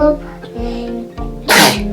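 One sharp, loud sneeze bursts out close by, with people talking just before it.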